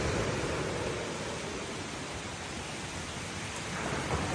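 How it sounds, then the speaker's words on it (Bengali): Heavy rain from a Kalbaishakhi storm on Saint Martin's Island roars in a dense, unbroken wash with gusty wind, loud and close, continuing with no voices. "ঝড় বাতাস, প্রচুর পরিমাণ বাতাস আর বৃষ্টি হচ্ছে"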